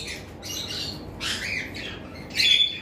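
Pair of albino lovebirds giving short, loud squawks in bursts, with a sharper call near the end, over a steady background of other birds.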